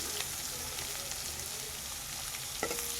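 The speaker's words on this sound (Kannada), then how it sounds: "ಒಂದು ಈರುಳ್ಳಿ ಸಣ್ಣದಾಗಿ ಹೆಚ್ಚಿರ್ತಕ್ಕಂಥ ಒಂದು ಈರುಳ್ಳಿನ ಹಾಕಿದ್ದೀನಿ" Finely chopped onion fries in a pan over low heat with a steady, fairly loud sizzle and a short scrape of a spatula near the end.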